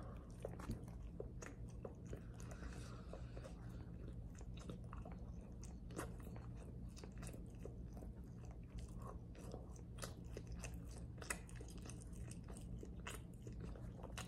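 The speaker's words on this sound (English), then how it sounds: "let me just show you what it looks like when I eat it" An untoasted Thomas cinnamon raisin bagel is bitten and chewed close to the mic, with steady, soft crunchy mastication running throughout and no talking.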